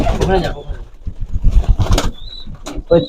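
High-flyer pigeons at a pigeon farm coo and flutter nearby, their calls and brief wing sounds mixed under steady close male conversation.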